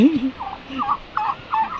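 A brooding turkey gobbles in quick repeated warbling bursts, several short rattling calls in a row, close and clear.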